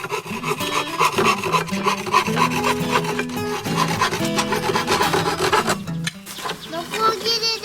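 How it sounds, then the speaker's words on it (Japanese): A hand saw cutting through wood outdoors during backyard campfire play, with steady rhythmic rasping strokes, close and continuous, with occasional faint background voices. "ノコギリでパパは切っています。"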